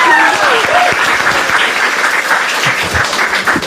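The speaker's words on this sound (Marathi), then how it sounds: "छान छान एकदा टाळ्या वाजायची आधी" Loud, dense applause fills the room at a Marathi stand-up comedy crowd-work show, continuous clapping from a close audience with a brief whoop near the start.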